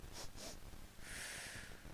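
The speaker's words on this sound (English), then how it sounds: "that's the double sniff" Two quick nasal sniffs in succession as part of a breathing exercise for chronic cough and vocal cord dysfunction, followed by a longer breathy exhale, close and quiet with no talking.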